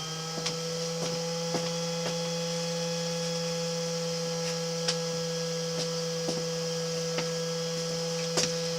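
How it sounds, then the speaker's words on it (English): A solar power inverter's cooling fan gives off a steady, faint electrical hum with a constant tone, dotted with small irregular clicks and ticks in a quiet room. "That noise you hear is my inverter"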